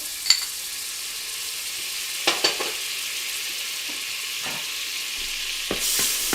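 A couple of tablespoons of butter in a hot pan give a soft, steady sizzle with a few louder clacks and scrapes, close but fairly quiet, swelling slightly near the end.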